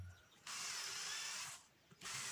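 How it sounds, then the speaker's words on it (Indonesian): A power drill with a 9 mm bit bores partway into a wooden board for a minimalist dispenser table, giving two whining bursts of about a second each separated by a short pause, close and clear, with no talk. "jadi ini menggunakan mata bor 9 mili ini setengah tembus saja ya di bagian papannya"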